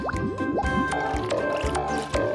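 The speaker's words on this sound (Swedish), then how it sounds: "Hack-Hack har upptäckt att han kan blåsa bubblor med nätet." Bubbly, squelchy cartoon sound effects as a small woodpecker blows bubbles through a net in a children's animation, with rapid watery pops, rising blips and drips continuing densely throughout under background music.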